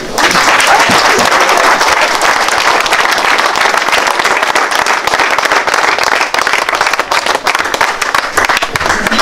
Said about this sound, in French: on pourrait peut-être les applaudir